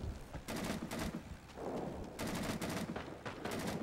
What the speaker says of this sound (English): That's an AK firing.